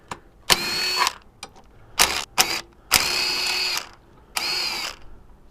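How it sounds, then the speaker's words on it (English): A cordless power drill unbolting a part on a Honda Ruckus scooter, firing in several short, loud whirring bursts close up with brief gaps and clicks between them. "Let's just unbolt this dude."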